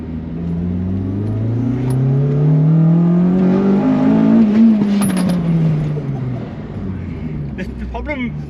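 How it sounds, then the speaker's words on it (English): A Honda Integra DC5 Type R engine revs hard into VTEC, its loud tone climbing steadily in pitch and then dropping away as the revs fall. "the sound of VTEC is just like"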